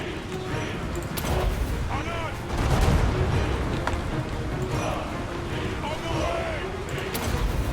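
Artillery fire in a Total War: Warhammer multiplayer battle with a dwarf army, dense rolling booms and crackling shots forming a constant loud battle roar, with a player's voice talking over it.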